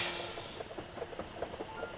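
Toy train from the train-set game Tracks running along its rails, a faint, quiet rhythmic clicking of wheels over track joints against a soft steady background.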